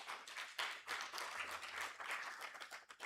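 Audience applause at a UN Women launch event in Uganda, a sustained wash of many hands clapping at moderate distance, fairly faint and continuous for the whole stretch.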